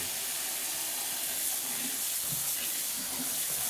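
Water runs from a tap in a home while something is washed beneath it, a steady hissing flow heard close throughout.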